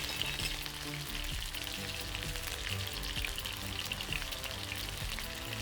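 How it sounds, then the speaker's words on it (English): Beef stir-fries in a wok with a pinch of salt, a close, steady crackling sizzle with occasional stirring clinks throughout and no speech. "I return beef to wok, add a pinch of salt or sometimes I use umami seasoning and I stir for a minute"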